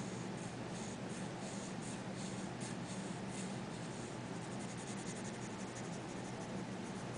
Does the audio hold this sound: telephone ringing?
no